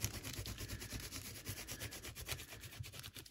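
An old acrylic brush scrubs a stencil clean in quick, steady back-and-forth bristly rubbing strokes, close and fairly quiet, with no talking.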